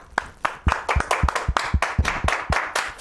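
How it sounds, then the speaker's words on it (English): Studio audience applause during a live show celebration, a quick burst of sharp, rhythmic claps from a small group, fairly close and clear with no talking over it. "I think that's a round of applause."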